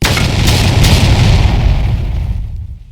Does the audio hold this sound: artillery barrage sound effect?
yes